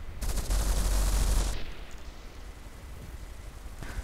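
A twin advanced cannon turret in the game From The Depths fires a loud, rapid barrage of shots that blur into a dense roar for about a second and a half, then drops to a lower rumble.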